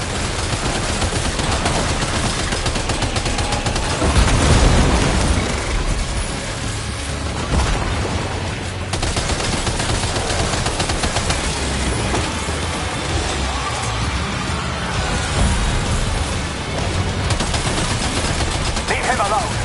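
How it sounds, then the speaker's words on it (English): Gunfire in the video game Death Stranding 2 keeps up a dense clatter of repeated bursts over heavy rumbling, loud the whole way through, with voices mixed into the chaos. "Opening fire now."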